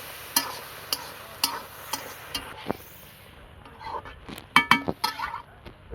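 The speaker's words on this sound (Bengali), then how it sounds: "এবার একটু নাড়াচাড়া করে দেবো।" Cooked taro leaves in a pan are stirred with a spatula, producing scattered scrapes and light clinks against the metal over a faint sizzle, close and fairly quiet, with no talking.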